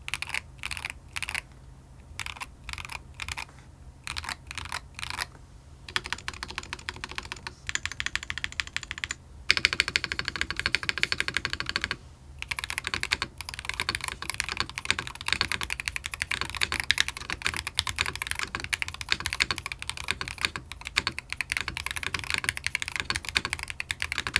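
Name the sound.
typing on Sony gaming keyboard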